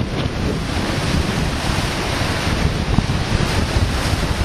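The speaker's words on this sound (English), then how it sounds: "Huge waves." Huge waves on Lac Courte Oreilles on an extremely windy early-June day, a loud continuous roar of surf mixed with heavy wind buffeting the microphone.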